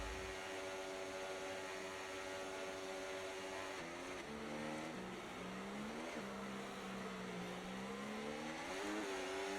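An F1 24 race car in a video game launches off the start line while short shifting, its engine droning and rising in pitch through repeated upshifts, steady and close, with no talking.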